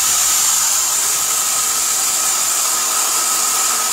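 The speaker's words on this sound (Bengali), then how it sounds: "দেখেন ব্লেন্ডারের কাজ দেখেন দর্শক, 10 সেকেন্ডে কিন্তু এই ব্লেন্ডারে বেসন হয়ে যাচ্ছে" A steel bush blender grinding gram flour (besan) with a loud, steady, high-pitched roaring whir that stays constant without pause.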